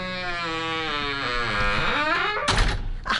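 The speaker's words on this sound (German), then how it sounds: "Ich liebe diese Tür, die ist so wunderschön leise." A quiet door swings shut with a single soft thunk near the end, following a few seconds of steady tonal sound.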